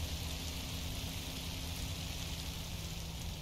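Steady, even rain hisses without a break in Minecraft Story Mode, a dense, uniform patter that fills the whole moment with no voices over it.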